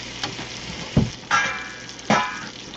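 Pork chops frying in a crowded pan, a steady sizzle broken by a few sharp bursts as pieces are flipped and pressed back in, close and without talk.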